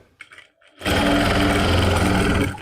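Sewing machine stitching the lining of a suit, a few faint taps and then a loud, fast, steady mechanical whirring run of stitches close by for nearly two seconds before it stops.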